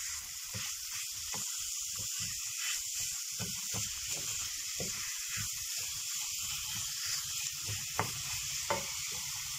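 Cabbage kavurma stirred in a pan after salt goes in, a steady bright sizzle running throughout with soft scraping stir strokes and a few sharper clicks near the end, no voices.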